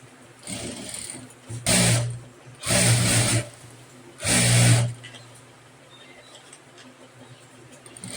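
A sewing machine stitches a Rajputi-style kurti in three short, loud whirring bursts of a second or so each, with quiet pauses between them.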